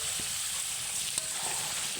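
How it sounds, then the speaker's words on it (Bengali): Potatoes fry with meat in a pan, a dense continuous sizzle, close and steady, with a faint knock near the middle. "এখন আমি এতে নতুন আলুগুলি দিয়ে দিলাম"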